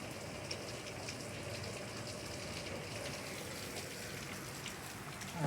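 Steady rain falls outdoors near water, a dense, even hiss of drops on surfaces that continues unbroken and fairly loud throughout, with no voices.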